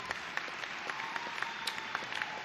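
Audience applause at a public university's 2012 spring commencement ceremony, a steady wash of many hands clapping from a large crowd, fairly distant and even, with no talking over it.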